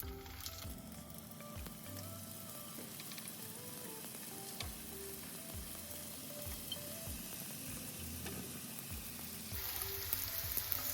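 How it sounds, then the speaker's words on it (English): Crab rangoon wontons filled with crab and cream cheese fry in hot oil, a steady, fairly quiet sizzle that runs throughout, with soft stirring clicks and no talk. "So we'll finish frying these up"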